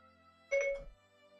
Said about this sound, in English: Oh, my phone thought I said Siri.